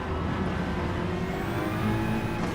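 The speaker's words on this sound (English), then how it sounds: "I'm getting wheel spinning in third." A race car in a Gran Turismo racing game roars steadily with its wheels spinning in third gear, a dense, loud engine and tyre drone that holds without a break.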